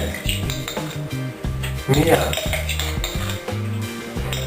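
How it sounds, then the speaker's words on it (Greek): A small teaspoon scooping espresso coffee clinks against a metal or glass container in quick, close, repeated taps and scrapes, under a voice speaking. "Παίρνουμε το μικρό το κουταλάκι, προσθέτουμε"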